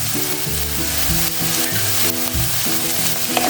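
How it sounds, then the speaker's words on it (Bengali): Chopped vegetables with onion and a little salt sizzle loudly in oil in a pan while being stirred and scraped. A rhythmic scraping runs through the steady frying hiss. "এটা মিক্স করে নেব, এটা ভাজা হবে।"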